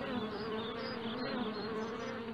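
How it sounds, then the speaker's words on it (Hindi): Honey bees hum around a bee box set out for pollination in a plant nursery, giving a steady, soft, continuous buzz with no voices. "ये मधुमक्खी की पेटी है,"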